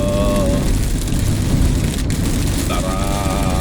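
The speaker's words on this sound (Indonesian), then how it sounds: "Wah, lagi hujan ya, jadi agak terganggu sedikit" Steady, fairly loud rain patters on a surface as a dense continuous hiss, with a brief thump partway through and no speech.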